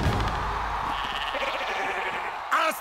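A sheep bleats during a dragon-racing game scene in the animated film How to Train Your Dragon 2, with a wavering cry over busy action sound and a sharper bleat near the end.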